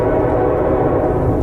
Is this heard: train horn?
yes